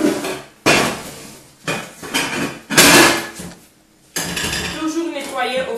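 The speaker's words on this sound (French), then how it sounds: "je vais couvrir ma casserole" Several loud clattering metal bangs of pots and pans in a kitchen, spaced irregularly, followed by a lighter clinking and rattling as a lid is set on a saucepan of cooking vegetables.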